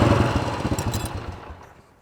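A Yamaha XT500 single-cylinder motorcycle engine revs briefly with a throttle blip, loud and close, then its sound fades away.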